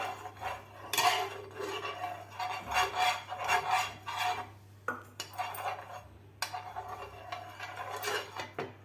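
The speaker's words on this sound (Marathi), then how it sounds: "तर पॅनला आपल्याला सुरुवातीला तेल लावून घ्यायचं आहे. सगळीकडे आपल्याला तेल लावायचं आहे." Metal utensil scraping and rubbing across a frying pan while oil is spread over its surface, a series of close, uneven scratchy strokes with short pauses.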